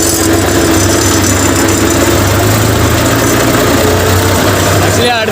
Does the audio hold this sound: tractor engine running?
yes